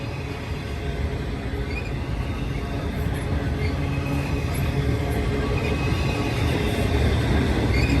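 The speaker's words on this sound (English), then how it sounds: "This train's going to end at the same time." Two trains run side by side at the same speed toward Cajon Pass, giving a steady, dense rumble of rolling wagons and wheels that holds unbroken throughout at close range, with no talk.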